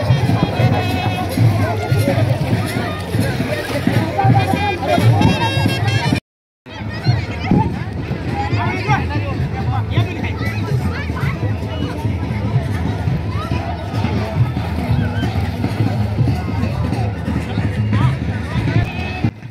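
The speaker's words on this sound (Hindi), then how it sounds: "जी सुन रहे हैं कितना भीड़ है, देख रहे हैं आप" Dense crowd hubbub at a riverside ghat during Chhath puja, a loud continuous babble of many voices with children's chatter, close and unbroken apart from one very brief cut.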